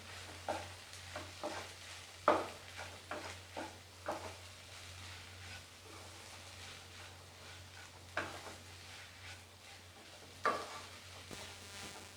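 Sabudana khichdi being stirred in a pan after salt and coriander leaves go in, with a spoon scraping and tapping in an irregular rhythm over a faint steady sizzle, no voices.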